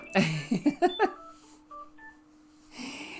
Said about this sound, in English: Phone's going as well.